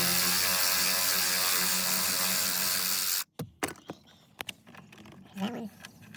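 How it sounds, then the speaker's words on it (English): A ratchet backs screws out of the ACM module inside a 2019 Lincoln Navigator, heard as a short burst of close clicks and mechanical taps after a steady loud noise cuts out. "So I'm taking out these screws here."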